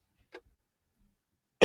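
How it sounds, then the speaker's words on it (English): Two short coughs from a person, a faint one early and a louder, sharper one near the end, separated by silence. "And now I cough."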